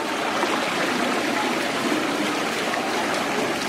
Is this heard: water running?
yes